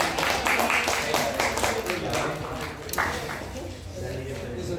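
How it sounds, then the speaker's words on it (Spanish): Brief applause from a university classroom of students for their class delegate, a patter of hand claps that tapers off under continuing talk. "aplauso para la delegada"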